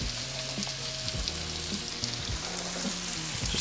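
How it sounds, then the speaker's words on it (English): Onions and peppers sauté in oil for a sausage, pepper and potato dish, giving a steady close sizzle with faint stirring clicks and no talking. "so now we're starting to get that clearish color, it's starting to saute"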